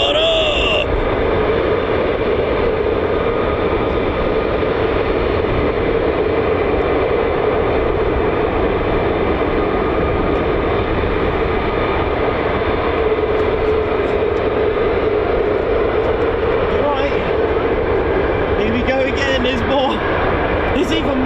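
F-15 and F-35 fighter jets taxi at RAF Lakenheath, a loud, steady jet engine roar filling the whole stretch, swelling slightly near the end, with no talk over it.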